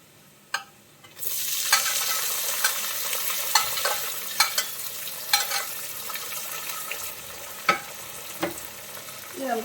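Sliced onions hitting hot oil already holding coconut, ginger and green chili for a buffalo meat fry, bursting into a loud steady sizzle with sharp spatters and crackles throughout.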